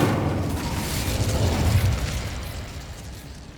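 A fire spell cast in Hogwarts Legacy bursts into a broad roaring whoosh of flame that stays loud and then slowly fades, with no voices over it.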